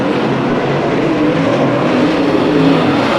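Late model race cars racing around Bakersfield Speedway, a dense, loud, continuous roar of engines at speed with overlapping revving from several cars.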